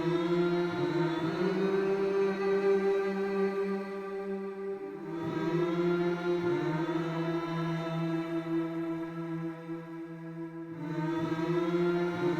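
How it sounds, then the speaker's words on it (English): Folk choir of four vocalists holding sustained notes in a Spitfire Audio library patch, a steady layered drone that swells and briefly eases in long phrases. "Eventually, I have the sustains from the folk choir coming in"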